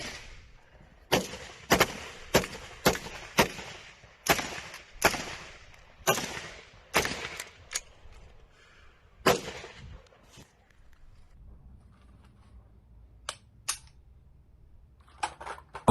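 Firearms practice in a vacuum store basement: a rapid string of sharp, loud gunshots in bursts, with a few isolated shots after a quieter stretch near the end.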